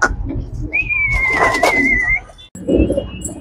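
Pigeons coo in low throaty rumbles close by, joined by a long, clear sustained whistle and a brief later burst of cooing.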